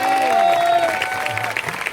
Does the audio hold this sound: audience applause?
yes